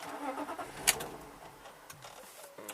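A cold BMW E36 engine cranks and catches briefly, then dies and falls quiet, all faint with a sharp click near the start.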